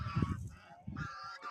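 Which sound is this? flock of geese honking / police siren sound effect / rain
flock of geese honking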